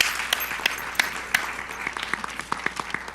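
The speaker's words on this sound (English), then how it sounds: "One more round of applause for our best high school teachers" A crowd's applause for high school teachers thins out, a scattered smattering of individual sharp claps over a soft background murmur, gradually fading.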